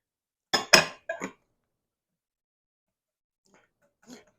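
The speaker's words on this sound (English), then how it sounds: "We're going to stir it in good." A utensil stirring buttermilk pie filling in a bowl, heard as a few sharp clinks close together, then quiet, then a couple of faint taps against the bowl.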